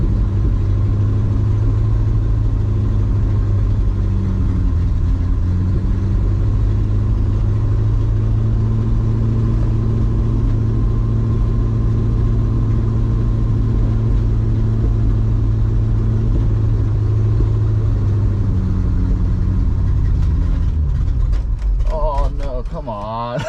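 A 1966 Ford truck V8 running rough just after a cold start, a loud steady low engine rumble that holds for most of the stretch before breaking up and faltering near the end.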